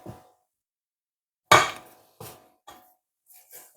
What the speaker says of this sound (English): at the moment, I'm just scraping down the side